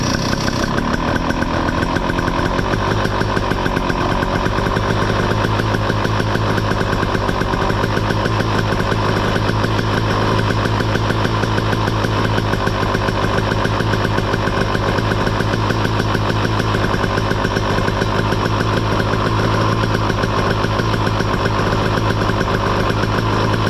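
A 2023 KTM 300 XC motorcycle engine runs at high idle, a steady, loud, continuous close-up drone with a fast even putter that holds constant throughout, with no talking.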